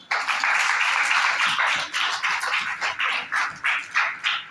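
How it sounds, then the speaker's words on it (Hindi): A class of children claps for a boy, the applause starting dense and steady, then thinning into separate rhythmic bursts of clapping near the end, close and fairly loud. "तालियां बजाओ बेटे के लिए"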